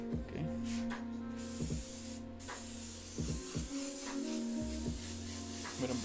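A no-name airbrush sprays thick teal paint in a steady, continuous hiss with a few brief interruptions, close and fairly loud over a low background hum, with no talking.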